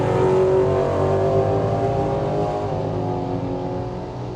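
Ford Fox Body Mustang and a 2019 Indian motorcycle racing side by side down a drag strip, engines roaring loud and steady, the sound easing slightly as they pull away.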